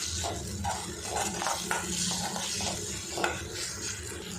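Tomatoes sauté in a pan while being stirred, a steady close sizzle with repeated soft scraping and clinking of the spoon against the pan.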